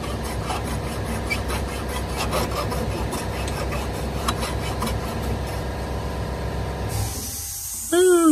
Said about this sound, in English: air compressor finally shut off.